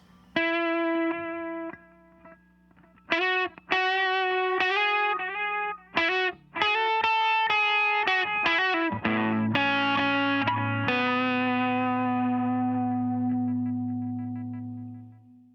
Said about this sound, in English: The next delay is a tube echo, and that sounds a little bit like this.